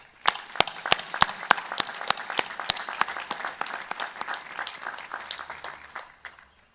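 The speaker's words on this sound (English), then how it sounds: "Let's give them a round of applause" Audience applause at a 2022 High Point University commencement honoring graduates' families and staff, with sharp individual claps standing out over a steady wash of clapping that fades out at the end.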